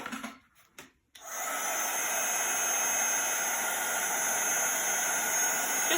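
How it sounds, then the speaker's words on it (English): A heat gun blows in a steady, loud, close whoosh as it melts metallic gold embossing powder on a card sentiment, starting after a second of quiet handling noises. "carefully moving that heat gun over the sentiment"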